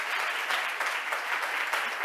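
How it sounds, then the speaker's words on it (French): Audience at a French talk on education and artificial intelligence applauding warmly, a dense, steady wash of clapping from many hands heard close and without pause throughout. "On l'applaudit chaleureusement."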